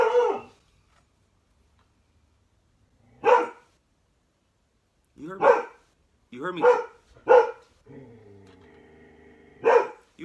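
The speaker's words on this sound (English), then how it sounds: "I know you're being a good guard dog." A guard dog barks in short separate bursts at home, several sharp barks spread apart, near and loud, with a person talking in between and a brief whimper-like tone.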